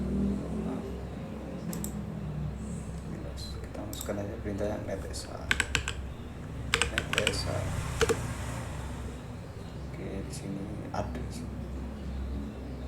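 Computer keyboard typing for Windows CMD network commands, a steady run of quick close key clicks with a few sharper presses, under a low constant hum and a person talking.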